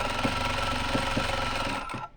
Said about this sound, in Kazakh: Осылай до конца тігіп шығамыз.